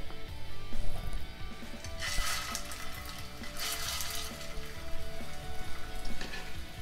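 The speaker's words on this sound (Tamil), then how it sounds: "இப்போ இந்த எண்ணெயில் வந்து நம்ம இதை வச்சிடலாம்." Chicken seekh kebab on chopsticks set into hot oil in a kadai, a steady close sizzle and crackle of frying that swells in bursts, with no talking.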